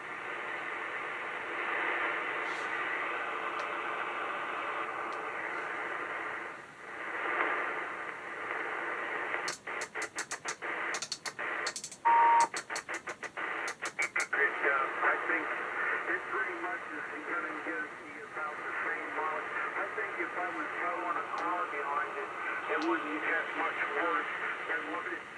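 Anytone AT-5555N II 10 meter radio plays through its internal speaker, a steady hiss of static with a voice coming through, broken midway by bursts of clicks, moderately loud and close.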